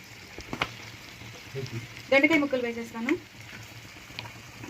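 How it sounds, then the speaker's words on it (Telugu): Ivy gourd slices tipped into oil with onions already browned in the pan, giving a soft frying sizzle with stirring clatter and a brief louder burst in the middle, under a woman's speech. "ఇప్పుడు నేను దొండకాయ ముక్కలు వేసేస్తాను."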